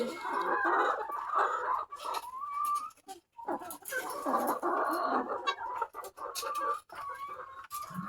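RTL chickens on a poultry farm clucking steadily and close by, a dense run of overlapping hen calls with only brief pauses, and no talking.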